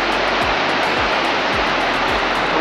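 Fast-flowing mountain water near Chopta rushes in a loud, continuous broadband roar, close by and steady, with a faint repeating low thump beneath the torrent and no talking.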